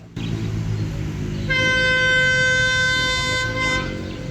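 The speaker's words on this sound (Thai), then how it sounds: "เมื่อกี้นะครับก็จะเป็นเสียงวีดนะครับของคิวเวตไวนะครับ รถจักรจากประเทศจีน" A loud, sustained multi-tone horn from a Chinese-built CRRC Qishuyan locomotive blasts for about two seconds over the deep rumble of express train 83 arriving at Trang station.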